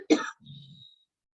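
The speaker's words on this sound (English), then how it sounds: "I'm blowing off camera to cough a little bit." One short, sharp cough or throat clear is heard close up during a home HIIT workout, followed by a soft, low exhale in a quiet room.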